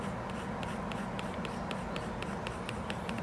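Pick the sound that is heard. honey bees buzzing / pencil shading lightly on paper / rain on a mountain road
pencil shading lightly on paper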